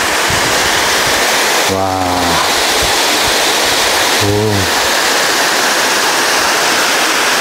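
Continuous heavy roar of a waterfall, loud and near, steady throughout, with two short exclamations from a person cutting through.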